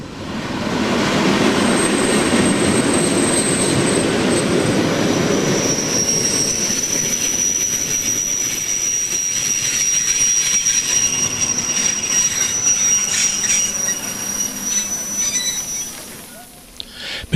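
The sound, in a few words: train travelling on rails with wheels squealing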